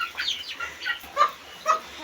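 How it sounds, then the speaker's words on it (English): Small chickens cluck and chirp close by as they are carried indoors out of the rain in a village, four or five quick bursts of calls spaced about half a second apart. "I had to move the chicken because it's wet and I cannot let the small chicken stay there."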